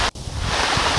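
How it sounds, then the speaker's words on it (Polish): Mountain waterfall near the Großer Muntanitz in the Alps, a steady broadband rush of falling water close by, mixed with wind buffeting after a brief dropout at the start. "No i dotarłem tutaj sobie taki wodospad."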